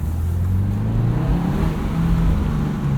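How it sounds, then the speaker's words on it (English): Steady low exhaust rumble from a 2022 Subaru WRX with a 6-speed manual, moderately loud and close, with a slight rise and fall in engine pitch throughout. "Exhaust is quiet, but I think it sounds pretty good."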